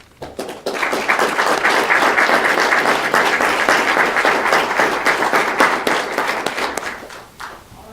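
A room at a public school board meeting breaks into sustained applause, a dense wash of many hands that swells quickly, holds loud for several seconds and tapers off.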